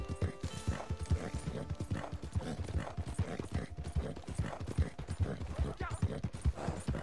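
A horse gallops in the video game Red Dead Online, its hooves beating a fast, steady rhythm that stays close and loud, with occasional creaks and a faint whinny.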